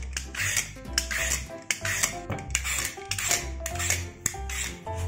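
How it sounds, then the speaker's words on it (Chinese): A knife pares the tough skin off a large old pumpkin, producing repeated close scraping strokes with sharp clicks and scrapes at an irregular rhythm. "先把它的老皮削掉。"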